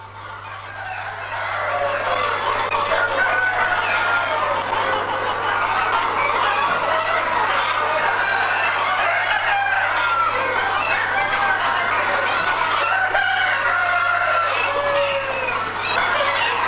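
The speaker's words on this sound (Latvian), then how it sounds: "Šie ir atlases putni, kuri izveidoti rūpīgā ģenētiskā atlases ceļā." Dense, continuous clucking from many breeder chickens inside a poultry house, a steady busy chatter with a low mechanical hum underneath.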